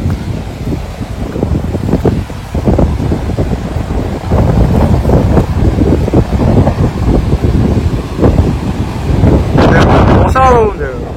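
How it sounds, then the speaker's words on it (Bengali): Strong wind roars and buffets the microphone on a rocky sea cliff above a rough Arabian Sea in South Goa, loud and gusty throughout, with surf rumbling below and brief voices near the end. "প্রচন্ড হাওয়া দিচ্ছে"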